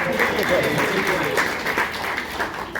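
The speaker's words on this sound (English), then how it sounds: "You can applaud for him" A convention crowd at a Beatles fan fest applauds steadily throughout, a dense wash of clapping with a bit of voice mixed in.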